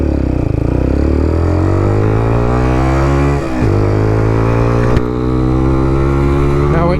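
AJS R7 125 sports bike accelerating on a road, a loud, buzzy small engine climbing steeply in pitch, a brief dip at a gear change, then revving high again without talk.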